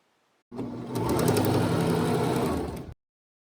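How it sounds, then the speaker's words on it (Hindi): A sewing machine stitches the corners of a pleated cloth face mask, a steady rapid whir running for about two and a half seconds at moderate loudness, starting and stopping abruptly. "अब हम इसे ऐसे सिलाई लगाएंगे कि कॉर्नर्स बंद हो जाएं।"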